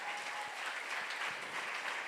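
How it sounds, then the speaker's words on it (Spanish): A church congregation applauds together during a service, a steady, dense wash of clapping filling the room with no voices over it. "Démosle un aplauso al Señor por eso."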